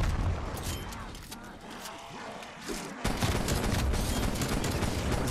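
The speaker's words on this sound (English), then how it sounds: "it keeps shooting me" Gunfire from Call of Duty: Cold War Zombies erupts in dense rapid bursts, loud and continuous with automatic-fire rattle and booms, game ambience and movement underneath.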